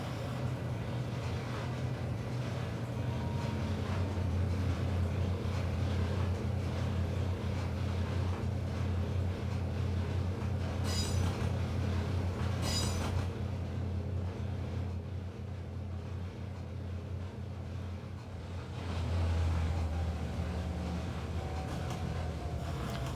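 A GP9 or GP38-2 diesel locomotive accelerating rather than holding speed, a steady low engine drone and rumble throughout with a brief hiss midway and a swell of louder engine near the end.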